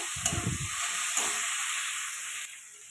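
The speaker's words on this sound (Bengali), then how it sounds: "ডালটা একটু ভালো করে ভেজে নিতে হবে" Dal (lentils) frying with dried chillies in a pan gives a steady, close sizzling hiss, with a short clatter of stirring near the start and the sizzle easing slightly toward the end.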